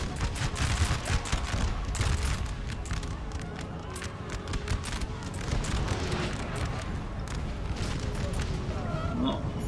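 Dense, continuous battle din in Napoleon Total War with rolling musket volleys and booming artillery, many overlapping cracks and thuds at mid distance while someone talks over it throughout.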